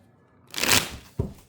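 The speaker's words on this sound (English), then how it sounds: "I'm gonna give these one more shuffle." A short riffle of cards being shuffled, a brisk flutter followed by a soft tap as the deck is squared, close by.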